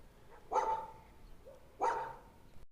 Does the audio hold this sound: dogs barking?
yes